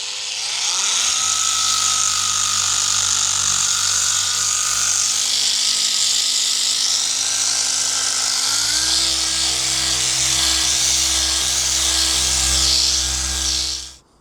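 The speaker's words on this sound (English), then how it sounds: "So I'm just going to hit the harder spots with a 600 grit paper on the DA" A DA sander with 600 grit paper wet-sands a Mk2 Golf carbon fibre wing mirror, whining steadily and loudly and close up, its pitch shifting partway through before it spins down at the end.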